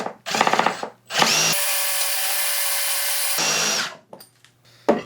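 A power drill spins a worn bit against hardened steel, with short bursts, then a sustained high whine lasting a couple of seconds before winding down, close and clear with no talk.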